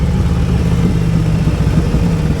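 A 2024 Harley Davidson Road Glide CVO ST motorcycle pulls under throttle with a deep, steady, throbbing engine drone, heard close and continuous without any talking.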